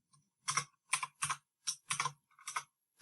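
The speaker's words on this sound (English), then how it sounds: "I gotta type in std again" Keystrokes on a computer keyboard while entering C++ code, about seven separate crisp clicks at an uneven typing pace, near and clear against silence.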